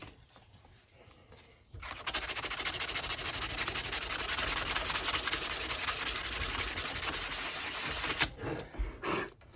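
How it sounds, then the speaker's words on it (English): Sandpaper rubs across a wooden charcuterie board in fast, steady back-and-forth strokes. The rasping is close and continuous for about six seconds, then stops among a few faint knocks. "Take a little bit of sandpaper."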